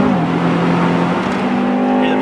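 An Acura Integra Type R engine revving hard under acceleration, a loud continuous steady drone with a rising pitch at the start, heard from inside the car.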